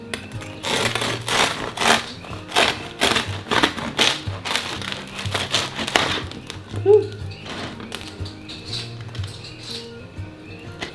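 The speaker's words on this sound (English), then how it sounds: "We're gonna go ahead and cut into our loaf." A knife saws into a homemade bread loaf, producing a run of crunchy, rhythmic crust-cutting strokes that fade into quieter rasps, with a brief voice partway through.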